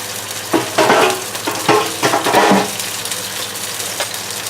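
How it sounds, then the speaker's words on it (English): Food browning in a frying pan for an early morning breakfast gives a steady near sizzle, with several louder bursts of crackle and stirring in the first few seconds before it settles to a softer, even hiss. "I'm going to brown the other side and then put it in this pan in the oven at 350 for about 7 minutes"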